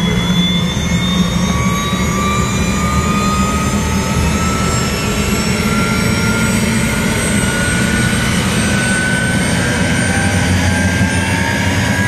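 A helicopter's rotors and turbine engine run loud and close from inside the cabin, a steady roaring whine with a faint rising tone and no voices.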